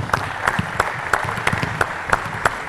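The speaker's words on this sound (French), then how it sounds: "D'abord applaudir les cobayes" Sparse, uneven clapping from a small group of men at a shooting training course, a few hands striking in loose rhythm at close range with no talking.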